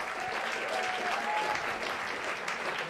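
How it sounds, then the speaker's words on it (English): Steady, dense clapping from a jazz club audience at Dizzy's Club fills the whole stretch at an even loudness, with a faint tone drifting through the middle. "give a round of applause for Uni Mojica on alto saxophone."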